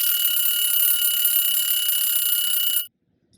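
A kitchen-style timer alarm rings with a shrill, steady high-pitched electronic tone for nearly three seconds, then stops abruptly, leaving silence.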